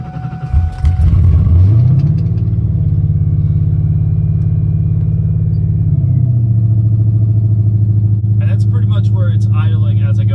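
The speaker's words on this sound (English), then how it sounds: "here's what I mean by the hanging idle." A car engine with a hanging idle fault idles steadily, its pitch rising and lingering high before slowly dropping back, a continuous close rumble with a lighter rattle near the end.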